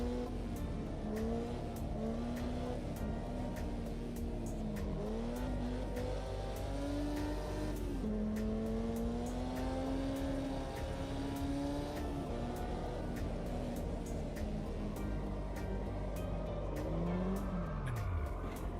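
Race car drifting around a track in a sim racing game, with steady engine drone and long wavering tire squeal that rises and falls throughout, ending in a downward swoop.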